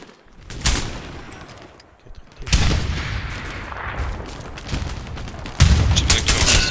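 Gunfire in the World War II shooter Hell Let Loose: sharp, loud bursts of rifle and automatic fire with booming reports, arriving in several separate volleys with quieter gaps between them.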